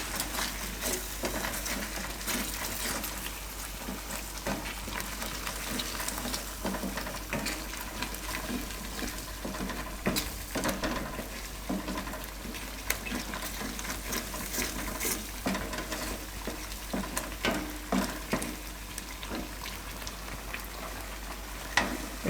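Spices and gravy for paneer afghani simmering in hot oil with salt, coriander-cumin powder, turmeric and red chilli, giving a steady close bubbling sizzle with faint stirring scrapes throughout, no talking.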